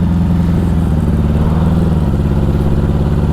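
A 1984 Honda Goldwing motorcycle engine rumbles steadily close by, a loud, continuous throaty drone with a slight rise in pitch, no voices.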